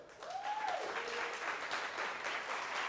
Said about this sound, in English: Let's get one more round of applause for these panelists, too.